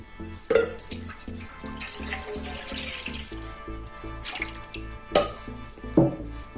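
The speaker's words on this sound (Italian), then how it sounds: "quindi verseremo in un pentolino il latte" Milk pouring from a container into a small saucepan, a continuous trickling, splashing stream with a few louder clinks and knocks against the pan.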